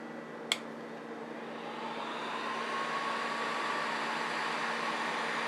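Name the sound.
heat gun blowing hot air for cabinet repair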